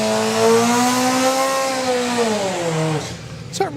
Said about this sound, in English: you've got the Mitsubishi 4-cylinder powered Suzuki Hayabusa